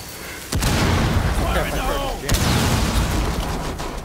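A breaching charge goes off in Rainbow Six Siege during a Hereford Base hostage match, heard as a loud close boom followed by a second blast and rumbling debris while players talk over it.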